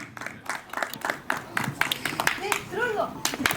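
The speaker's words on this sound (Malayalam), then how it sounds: "So very big round of applause to Hisham Abdul Wahab" Audience at a Kochi mall event clapping for a film crew member, a steady patter of claps under a loud voice and chatter, with bright tonal blips toward the end.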